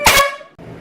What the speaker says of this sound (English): That's 2 in a row with the air horn.